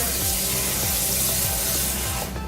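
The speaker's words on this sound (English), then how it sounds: "we're gonna get some water, some hot water" Hot water runs steadily from a kitchen tap into a sink as chicken breast is prepared, a continuous broad rushing splash with a low rhythmic pulsing underneath, close and fairly loud for the whole stretch, with no voices.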